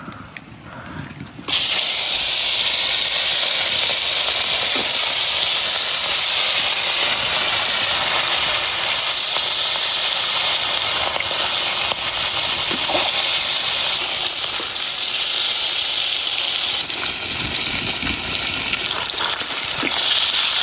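Carp pieces fry in oil in a wok, kicking in as a sudden loud, continuous sizzling hiss that stays strong and steady for nearly twenty seconds after a brief quiet start, with no talking.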